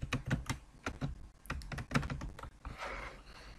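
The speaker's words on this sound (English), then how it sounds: "Click continue and type your administrator password." Keys on a computer keyboard are tapped in irregular bursts as an administrator password is entered, close and fairly quiet, with a brief rustling clatter near the end.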